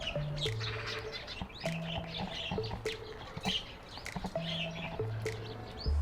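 Small birds chirp and tweet in quick bursts at a smart camera bird feeder over a repeating low melodic tone, fairly close and continuous.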